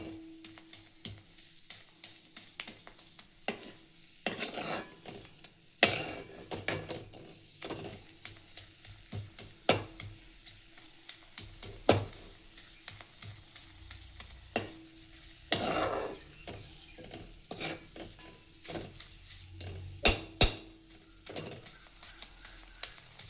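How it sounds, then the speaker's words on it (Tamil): Lump milk asafoetida frying in oil in a pan for turkey berry powder, heard as a soft, low sizzle broken by repeated sharp spoon scrapes and taps against the pan. "இந்த பெருங்காயத்தை பொரிய விட போகிறோம்"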